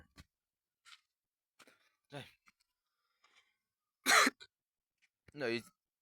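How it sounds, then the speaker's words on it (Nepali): One person coughs, giving several short, rough coughs spaced a second or two apart. The last two are the loudest, close in a quiet room. "खोकी नि चलेको"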